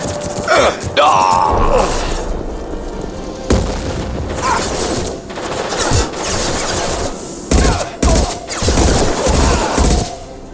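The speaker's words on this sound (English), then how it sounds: "Firing concussive shot!" Concussive shot ability firing in Mass Effect 2 amid a loud combat sequence of repeated heavy blasts and booms, several sharp bursts spread across the stretch with mechanical clatter between them.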